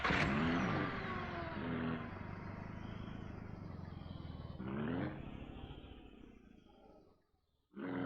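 A car engine in the video game Ranch Simulator revs with a rough, roaring growl, surges again midway, fades almost to nothing near the end, then bursts back loudly.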